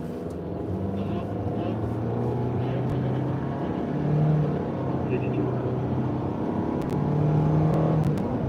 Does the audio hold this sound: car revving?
yes